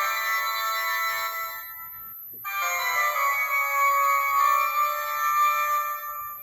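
A tinkly electronic piano or organ tune from a Halloween noise maker, bright, toy-like tones, pausing briefly before a second phrase plays on, moderately loud and close.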